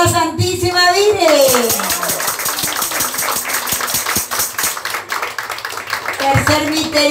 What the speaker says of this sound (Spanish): ¿Cuántos aplauden a la Santísima Virgen?